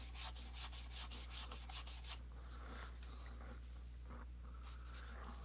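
A paintbrush scrubs paint onto a canvas, a quick run of about ten close rhythmic bristle rubs, then quieter scattered dabs and a few short scrubs near the end.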